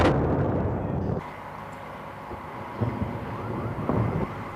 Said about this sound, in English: most of what we've heard this morning has been Iraqi anti-aircraft fire